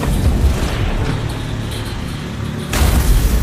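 An army tank's cannon fires with deep, loud booming blasts, a heavy rumble sustained throughout and a fresh powerful blast near the end.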